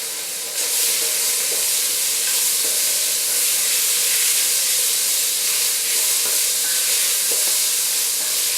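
Cut red tomatoes dropped into a hot sambar pot, setting off a loud, steady, close sizzle and hiss that starts abruptly and continues evenly, with faint stirring scrapes underneath.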